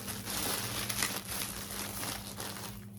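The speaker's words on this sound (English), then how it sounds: "take like a plastic bag" A plastic bag crinkles up close without a break, a dense crackly rustle held at an even level, with no talking.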